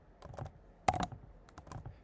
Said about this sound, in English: You gotta excuse me for my typing.